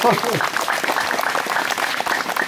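Audience applause during a teen meditation talk, a steady wash of clapping filling the room for a couple of seconds, with a voice briefly audible at the start.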